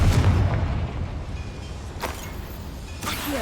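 A Confringo blasting spell detonates in Hogwarts Legacy with a loud, low boom at the start that rumbles and fades, followed by two fainter sharp cracks later on.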